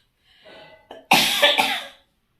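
A person with a cold coughs: a soft throaty rasp, then a harsh, loud close cough bursting twice in quick succession, alone without speech.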